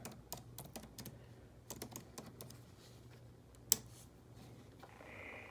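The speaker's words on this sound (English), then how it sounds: "in the Google search bar, we're going to type in royalty-free cobblestone paper." Keys clack on a computer keyboard in short irregular bursts of quiet taps, with a pause, one sharp louder click, and a soft faint hiss at the end.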